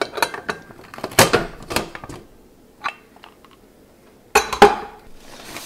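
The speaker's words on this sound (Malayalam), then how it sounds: "ഈ കുക്കർ തുറക്കാം." A pressure cooker holding steamed aviyal vegetables, its steam already released, is unlatched and opened in a home kitchen: a few sharp, close metallic clanks and clinks of the lid arrive in bursts, separated by quiet gaps.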